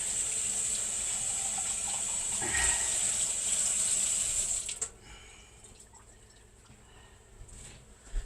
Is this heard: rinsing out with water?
yes